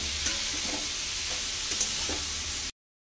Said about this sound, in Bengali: পেঁয়াজগুলো ভাজা হয়ে গেছে, এবার আমি ওর মধ্যে সবুজ মটর যেটা ভিজিয়ে রেখেছিলাম সেটা দিয়ে দিচ্ছি।